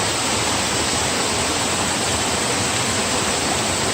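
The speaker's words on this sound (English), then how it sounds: "There's that waterfall he was talking about" A waterfall near an abandoned monastery in Spain gives off a steady, dense rushing roar, heard close and loud without a break for the whole stretch, with no voices.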